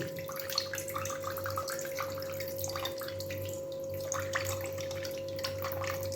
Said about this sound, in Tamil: ஸோ ஃபஸ்ட்டு இந்த ரைஸில் வந்து நம்ம நேற்று வச்ச தண்ணியை வந்து தனியாக ஊற்றி செப்பரேட் பண்ணி வச்சுக்கணும்.